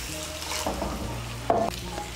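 Hot water goes into a pan of frying potato and taro curry and gets stirred, with a steady sizzle underneath and a brief louder splash and scrape partway through.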